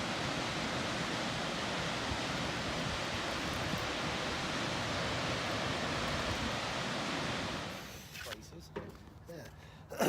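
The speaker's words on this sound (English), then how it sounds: "Another shot of the waterfalls." Rainbow Falls in Yosemite sends up a loud, steady, broadband roar of falling water that holds constant and then drops away abruptly near the end.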